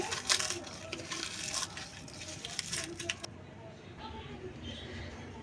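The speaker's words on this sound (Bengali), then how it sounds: "শুকনো মরিচগুলো লবণ দিয়ে ভালো করে ভেঙে নিচ্ছি" Dried chillies being crushed with salt in a bowl, a close run of gritty crunching and scraping bursts that eases off midway, with a voice speaking over it.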